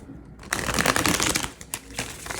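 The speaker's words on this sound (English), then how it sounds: "as I'm shuffling these cards" Tarot cards shuffled by hand in a brisk, close riffling burst with a short pause, then more shuffling, heard alone without talk.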